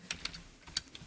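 Soft, quick clicks of keys being typed on a computer keyboard, a handful of light taps in an irregular rhythm, close and quiet with no talking.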